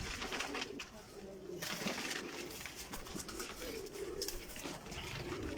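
Teddy pigeons coo softly and repeatedly amid a steady background hiss, with faint intermittent rustling and no talking.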